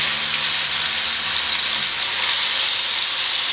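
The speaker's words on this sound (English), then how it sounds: "I'm gonna start throwing some chicken pieces in there. You wanna hear that sizzle." Chicken pieces sizzle in hot fat in a pan, a dense, steady crackling hiss that continues evenly throughout with no voices.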